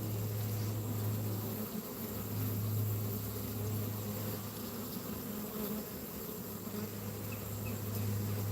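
A honey bee swarm settled on the ground, buzzing in a dense, steady drone that stays close and continuous throughout, with no voices.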